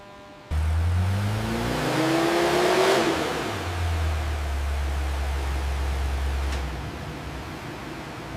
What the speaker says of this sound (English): Porsche 911 on dynamometer.